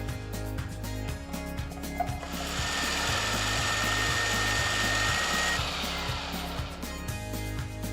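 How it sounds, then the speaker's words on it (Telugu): A mixer grinder grinding ginger chutney with added water whirs steadily with a pulsing, rhythmic motor drone, growing louder and fuller midway as the grinding continues, with no talking. "కొన్ని నీళ్లు పోసి మళ్ళీ రుబ్బాలి"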